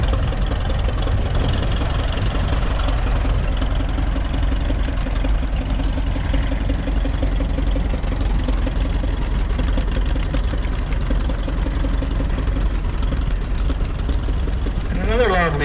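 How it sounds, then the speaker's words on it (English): A vintage tractor engine at a Lacombe parade of power idles with a steady, loud, low chugging knock throughout, close and continuous, with faint voices in the background. "this tractor pulls really good and runs good"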